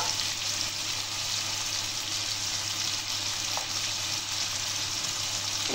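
Turmeric and chili powder frying in a pan for keema chana masala, a loud, dense, continuous sizzle close by, steady throughout and with no talking.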